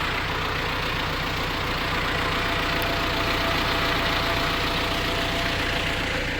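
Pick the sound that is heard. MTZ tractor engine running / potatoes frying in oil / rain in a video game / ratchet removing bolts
MTZ tractor engine running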